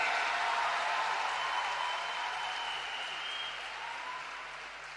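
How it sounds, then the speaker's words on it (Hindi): An audience at a National Women's Day event claps for the Prime Minister with steady, dense applause that fades slightly toward the end. "तो एक बार जोरदार तालियां देश के प्रधानमंत्री नरेंद्र मोदी जी के लिए।"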